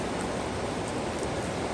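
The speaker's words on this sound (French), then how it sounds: "Et il pleut." Steady rain falling outdoors near a holiday rental in mountain country, an even broadband hiss with no breaks and no voices.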